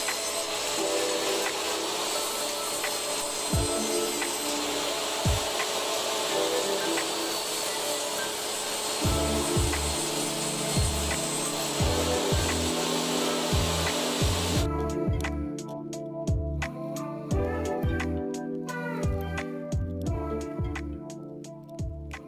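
A power tool planes down a glued-up wooden panel to an even level, a steady loud whirring drone with knocking passes throughout, followed by sharper intermittent cutting bursts in the later part.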